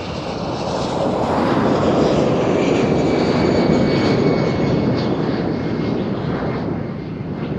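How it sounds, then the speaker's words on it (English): An Air France Airbus A321 jet takes off at Amsterdam Schiphol, its engine roar swelling loud and close, holding strongly, then easing slightly as it climbs away, with no talking. "it will be the Air France flight"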